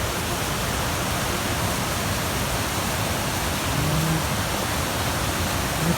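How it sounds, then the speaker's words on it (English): A raging creek rushes below a wooden deck, a steady, dense broadband roar of water that stays constant throughout with no pauses, no voices and no other clear sounds. "there is a raging creek down there"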